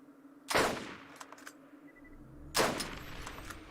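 Gunfire in the video game Borderlands: two loud bursts of shots about two seconds apart, each fading into a short tail, with quieter game sounds between.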